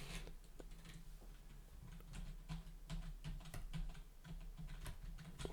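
Rapid key clicks from numbers being typed on a computer keyboard while rigging an eye in 3D software, an uneven stream of light, close taps over a low steady hum.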